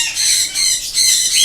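A pet bird in an aviary of parrots, lovebirds, cockatiels and conures squawks loudly and close, in a few harsh, sustained screeching calls that run almost without break.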